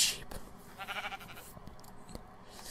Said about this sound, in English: I thought I saw a horse. Did I? Or just a bunch of sheep.